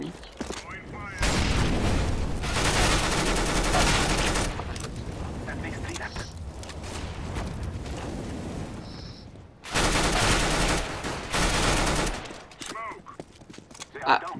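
Bursts of UMP submachine gun fire in CS:GO during a warm-up round, two long loud sustained volleys with scattered shots and game noises between them.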